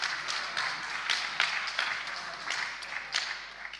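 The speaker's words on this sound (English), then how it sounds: "Can we give them a round of applause as well for the amazing activity?" An audience at a Christmas family service claps in scattered, uneven bursts, moderately loud, with no voices over it.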